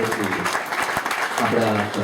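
Loud applause from an audience at an award presentation ceremony, a dense continuous patter of clapping heard under a voice speaking over a sound system.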